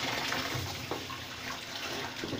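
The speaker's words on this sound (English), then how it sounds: "Turn it on, put it on the faucet," A bathtub faucet runs water in a steady, soft splashing flow that stays at an even, moderately quiet level throughout.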